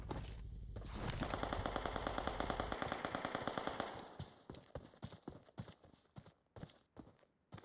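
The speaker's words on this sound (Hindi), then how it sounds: "नोबिता को स्पॉट किया, शॉट्स लिए, इसी के साथ नोबिता को ले गए। बहुत ही बेहतरीन स्प्रे" Automatic gunfire in the BGMI battle royale game: a rapid spray of shots rattles for about three seconds, then breaks into scattered, sharp single shots and clicks, fairly loud and close.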